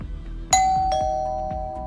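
An office doorbell chime in a building automated with Loxone: a single bright electronic ding-dong, two clear tones ringing out and decaying slowly, heard alone.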